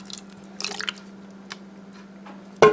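Canned diced tomatoes poured into a saucepan in a home kitchen, soft wet squishing plops over a low steady hum, ending in a sudden louder splat as the last of the can lands.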